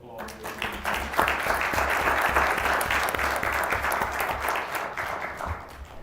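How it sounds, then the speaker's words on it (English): Applause fills a city council meeting room, a sustained round of clapping from the attendees that swells after the first second and then tapers slightly toward the end. "Let's give him another applause."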